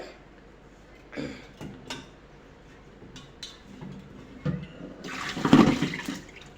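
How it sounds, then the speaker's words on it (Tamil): Eggshells being rinsed by hand in water, heard close and fairly quiet as scattered sloshes and splashes, ending in a louder swirling rush of water. "இந்த மாதிரி நல்லா அலசி எடுத்துடணும்"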